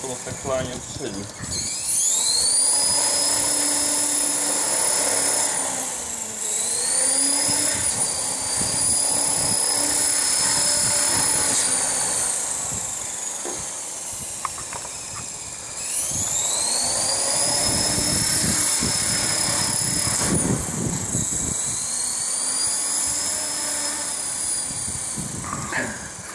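A model helicopter runs and flies with a loud whining rotor and motor, pitch swelling and dipping as it spins up and lifts, close by, with a few quiet voices nearby.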